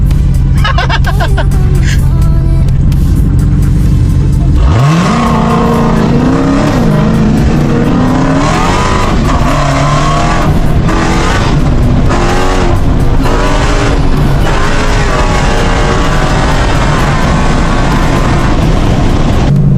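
A loud car engine revs hard and roars continuously, pitch rising and falling with repeated throttle bursts, close by.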